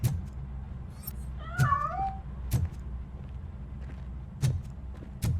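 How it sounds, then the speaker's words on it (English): A cat in the video game RoboCop: Rogue City gives one clear, wavering meow amid sharp clicks and thuds over a low ambient hum. "That cat must be hiding inside."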